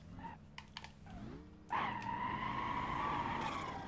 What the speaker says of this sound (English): It just peels out.